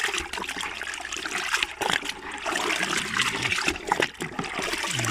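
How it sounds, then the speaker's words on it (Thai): Water sloshes and swirls as a durian root-stimulant solution is stirred into about 15 litres of water, a steady close splashing and trickling that runs without a break. "คนให้ละลายให้เข้ากันดีๆนะครับ"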